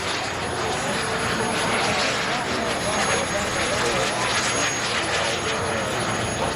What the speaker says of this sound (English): We're going to taxi the F-18 back.